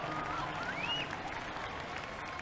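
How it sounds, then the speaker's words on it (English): A crowd at a Formula Drift Seattle 2022 top 32 battle applauds and roars in a dense, continuous wash of noise, with a rising whistle-like tone near the start. "The crowd erupts and stomping their feet for this amazing battle"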